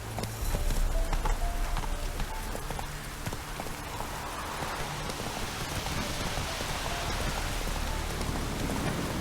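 Roach the horse's hooves clip-clop at a steady pace in The Witcher 3, the beats set close and dense against a heavy wash of rain falling over everything.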